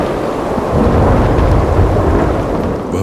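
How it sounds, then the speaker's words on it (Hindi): Thunderstorm with heavy rain, a dense close wash of rainfall under a deep rolling rumble of thunder that swells after the first second and holds loud before easing slightly. "बिजली की गड़गड़ाहट"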